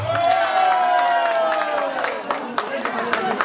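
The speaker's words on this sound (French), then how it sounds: "est-ce qu'on peut applaudir pour moi-même d'abord?" An audience claps and cheers at an African night event in Saint-Etienne, a burst of crowd applause and shouts growing denser toward the end, with a voice speaking over the start.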